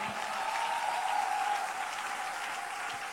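A church congregation applauds to acclaim the Lord, a dense, steady wash of clapping that holds at an even level for about three seconds without a break.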